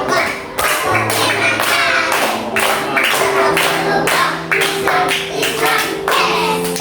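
Students play an ice-breaking finger-clapping game, tapping fingers together in quick, steady rhythmic bursts, loud and close, with short groups of claps in a repeating pattern and no talking.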